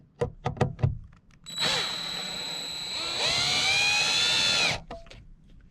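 A cordless drill drives wood screws into a VW van for curtain rods, a few sharp taps first, then a steady high whine that climbs in pitch as the screw seats and stops abruptly; close and alone, no talk.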